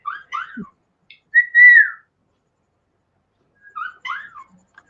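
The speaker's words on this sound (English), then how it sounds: "I was like trying to figure out where the other whistling was coming from." Whistling alone in an otherwise quiet room: short rising chirpy notes, one longer sustained wavering tone, then a pause before two more brief warbling phrases, fairly close and clear.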